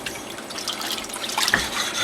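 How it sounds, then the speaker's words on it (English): Tap water running steadily over a Norton 4k/8k sharpening stone during blade lapping, a continuous close splashing trickle with no talk. "The other thing is to have water running on it."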